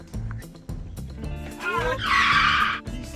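A car skids under hard braking on a road, with a loud tire squeal rising for about a second over steady engine rumble and low background noise.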